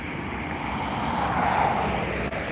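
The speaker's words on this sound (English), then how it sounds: "we can see the British Airways Airbus A321neo heading over to London Heathrow" A British Airways Airbus A321neo flies over near Dublin Airport, a loud steady jet roar swelling slightly mid-passage with a broad rushing tone and no speech over it.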